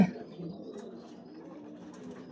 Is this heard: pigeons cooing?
yes